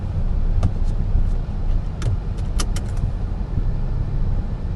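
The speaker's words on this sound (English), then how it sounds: "Hang on, let me wear the seatbelt." Inside a Honda Jazz 1.2 i-VTEC, a seatbelt is pulled and buckled, giving a few sharp metallic clicks and light rattles over a steady low hum from the car.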